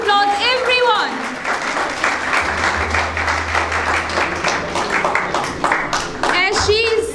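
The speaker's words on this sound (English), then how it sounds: "So give her a big round of applause, everyone." Audience applause at a talent hunt event in Islamabad, a sustained dense clapping that stays steady for several seconds, with an amplified voice speaking over the start and end.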